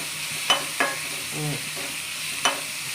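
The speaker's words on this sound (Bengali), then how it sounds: "আমার শুটকি টালা হয়ে গেছে।" Dried fish (shutki) stir-fried in a pan gives a steady low sizzle, broken by a few sharp spatula scrapes and taps against the pan, with no talking.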